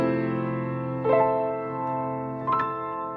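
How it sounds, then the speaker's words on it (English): A live-sounding piano from a song holds sustained chords, with two soft struck notes rising above them. The playing is clear and close, with no voices. "it sounds like this piano is being played live"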